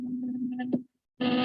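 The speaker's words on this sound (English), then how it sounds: "when you have thermoacoustic instability, you can hear actually periodic sound." A combustor in periodic thermoacoustic instability gives off a steady, buzzing low tone with harmonics. The tone breaks off briefly, then returns louder and brighter.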